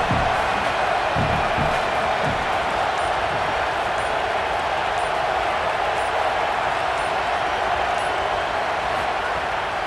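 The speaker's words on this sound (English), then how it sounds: "how nice is it to have the home crowd going absolutely bananas?" A home stadium crowd in a football video game roars steadily for the whole stretch, a dense wash of cheering and whoops with no break.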